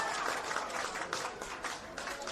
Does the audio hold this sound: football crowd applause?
yes